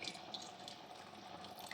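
Water runs steadily from a tap into a pot of basmati rice, a soft continuous splashing stream with faint drips, fairly quiet and uninterrupted.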